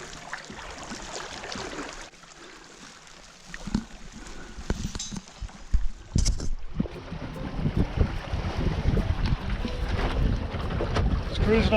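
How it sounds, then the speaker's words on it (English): A sailing dinghy cruises under sail on a lake in a nor'easter breeze, with wind buffeting the microphone and water splashing and slapping against the hull. The sounds are gusty and uneven and grow busier toward the end. "we're going to sail back to Johnson's on the nor'easter"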